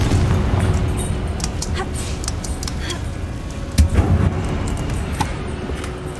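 Confringo fire spell striking a bridge in Hogwarts Legacy, heard as a muffled blast that stands out once from a steady rumbling game ambience.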